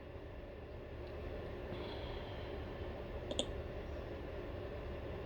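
A single quiet mouse click on the OK button of a word-processor Bullets and Numbering dialog box, heard once over a steady low room hum.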